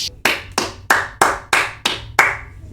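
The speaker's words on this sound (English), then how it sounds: "I just had a clap." A single person claps seven times in a steady, moderately paced rhythm, each hand clap sharp and close, with no other sound between the claps.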